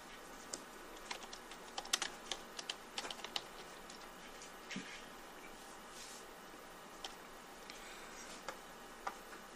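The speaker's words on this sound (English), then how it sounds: "lets me actually type into the chat box, I'll do it" Keystrokes on a computer keyboard typing into a Minecraft server chat box, a steady run of light ticking taps with scattered louder presses, close but quiet over a faint hum.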